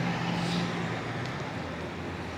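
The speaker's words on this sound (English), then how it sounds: "little supercar going up there. Porsche, beautiful" A Porsche supercar drives past on a street in St Julian's, Malta, its engine noise blending into a steady, moderately loud wash of surrounding traffic for the whole stretch.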